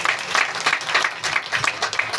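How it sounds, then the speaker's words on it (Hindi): A crowd at a political gathering claps loudly and continuously, a dense rhythmic patter of many hands close by. "ताली बजाकर"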